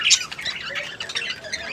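Pet birds kept in cages squawk in quick, shrill bursts close by. The calls overlap in a busy, continuous chatter with no talk.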